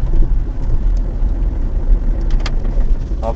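Loud, steady drone of a car engine pulling in low gear up a steep mountain road, close and continuous with a few faint clicks and rattles near the end, no talk.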